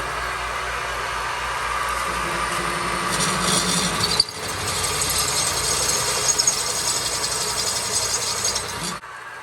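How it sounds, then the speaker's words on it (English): A machine bores into a metal part with a 1-inch hogging bit and cutting fluid, giving a continuous grinding, ratcheting mechanical whir with a brief dip midway before cutting off near the end. "There's the 1-inch hogging bit."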